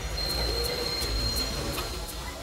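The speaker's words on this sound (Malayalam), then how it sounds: "എന്താ സർ ട്രെയിൻ ഇങ്ങനെ ഇടയ്ക്കിടയ്ക്ക് നിർത്തുന്നത്?" A passenger train heading toward Chennai in a film, rolling with a constant low rumble and a faint high squeal, with soft rhythmic clicks from the wheels repeating at an even pace.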